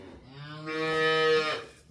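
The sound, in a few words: cow mooing in a barn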